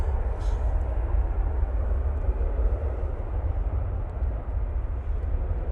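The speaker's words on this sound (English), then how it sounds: "There goes the Aer Lingus returning back to Dublin now in their A320." A departing Aer Lingus Airbus A320 bound for Dublin at Manchester Airport gives off a loud, steady, low jet rumble that fills the scene without a break.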